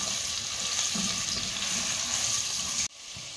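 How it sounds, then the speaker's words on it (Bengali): Potato pieces with turmeric and salt fry in a pan, giving an even, close sizzle that cuts off abruptly near the end, leaving a quieter hiss. "আমি আলুতে সামান্য হলুদ আর একটু নুন দিয়ে দেব। দিয়ে এগুলো আমি ভেজে নেব।"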